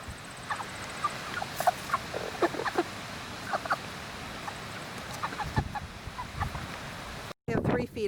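Cornish Cross meat chickens, eight weeks old and twenty-five of them, crowded in a tight coop, give scattered soft clucks and chirps over a steady low background hiss, with a brief rustle near the end.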